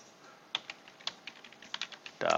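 A web address is typed on a computer keyboard, a short quick series of distinct, close key taps ending in a faster cluster, quiet and with no one talking.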